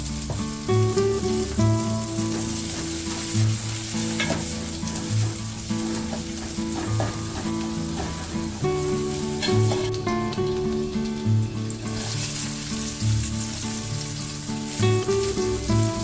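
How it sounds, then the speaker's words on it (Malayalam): Chicken pieces stirred and fried in a chilli gravy over low heat in a thattukada-style chilli chicken, giving a steady close sizzle with soft scraping stirs throughout and no voices. "ചെറിയ ചൂടിൽ ഇതൊന്ന് മിക്സ് ചെയ്ത് കൊടുക്കാം."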